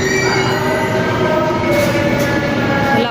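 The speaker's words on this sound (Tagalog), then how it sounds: "sasakay kami ng LRT guys" An LRT light rail train in Manila rolls past with loud, sustained metallic wheel squeal and rumbling track noise, close by.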